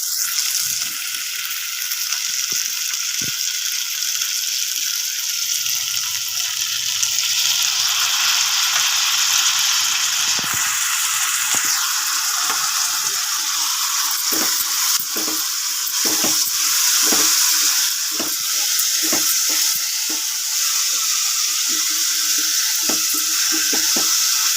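Mixed vegetables with corn and tomato sizzle and fry in a pan for a vegetable curry, a steady close crackle with scattered sharp pops and stirring clicks throughout, no voices.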